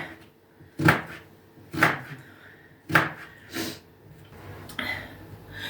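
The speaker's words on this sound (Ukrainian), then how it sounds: "Ось, нарізаємо цибульку" A knife chopping onion for a layered salad: a few distinct, spaced cuts against a board, near and moderately loud, with faint background noise between strokes.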